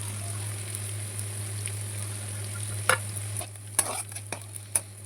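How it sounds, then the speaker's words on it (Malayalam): Onions fry and sizzle in a pan with a steady hiss, while a few sharp scraping stirs land in the second half, close and moderately loud over a constant low hum. "നമ്മുടെ ഉള്ളിയൊക്കെ ഒന്ന് നല്ലോണം ഒന്ന് മൂത്ത് വന്നിട്ടുണ്ട്"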